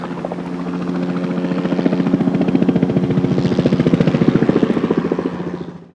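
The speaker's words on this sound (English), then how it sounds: "we're flagging down the Fish and Game helicopter and surveying elk in the Weiser River Zone" A Fish and Game helicopter flies over the Weiser River Zone during an elk survey, its rotor thumping in a steady, loud rhythm that swells close and then cuts off abruptly.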